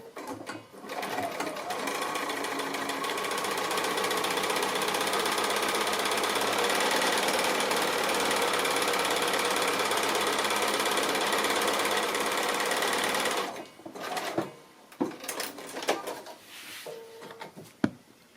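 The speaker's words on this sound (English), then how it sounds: "I'll stitch on this line right out to the seam allowance at both ends" Sewing machine stitching a foundation pieced quilt block, a long continuous close mechanical whir lasting over ten seconds, then stopping into clicks, rattles and fabric handling.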